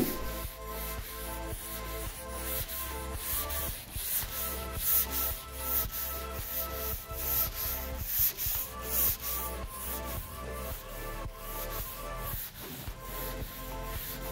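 Automotive body filler on a car is sanded by hand with a sanding block, giving a close, steady run of repetitive rasping back-and-forth strokes throughout, with no talking.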